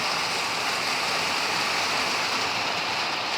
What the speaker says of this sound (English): my metal roof is making a sound. So I kind of have to raise my voice because it's loud out here. As you can see, it's raining.